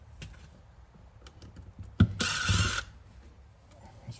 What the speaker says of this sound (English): Let's take these screws out here.